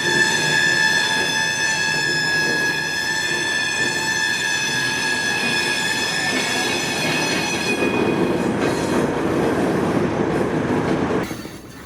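A CSX freight train runs in the street through a three-way intersection in downtown Miami, rolling past loudly and close with wheel squeal and steady clickety-clack, then fading abruptly at the end.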